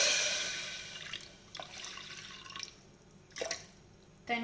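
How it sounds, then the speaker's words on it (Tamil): Water is poured into a pressure cooker on a stove while making Kerala-style beef, a splashing stream that fades and is followed by a few faint drips and small sloshes, with no talk. "அடுப்பில் ஒரு ப்ரெஷர் குக்கர் வச்சுருக்கேன். அதில் கொஞ்சமாக தண்ணி சேர்த்திக்கலாம்."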